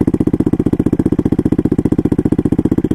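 A turbocharged Honda Grom motorcycle with a swapped-in CBR engine runs up close and loud, its exhaust pulsing in a fast, even, regular throb for a few seconds.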